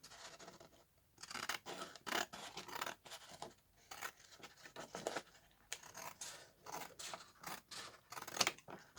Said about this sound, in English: I'm just going to use my scissors this time.